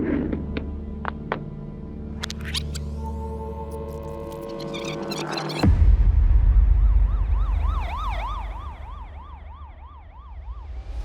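A fire engine siren wails in repeated rising and falling sweeps after a loud rumbling passby, heading to a trailer fire at night in Hillcrest Manor, Bemidji, Minnesota, while droning tones fill the first half.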